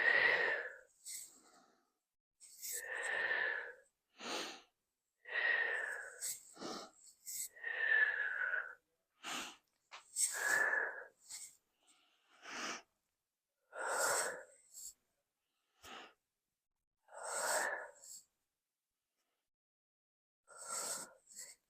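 Slow, steady breaths in and out during a gentle beginner movement practice, each one soft and airy and spaced a few seconds apart, with quiet pauses in between.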